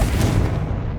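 A Confringo blasting spell explodes in Hogwarts Legacy: a single loud, close burst that booms with a rough, crackling tail and no pause.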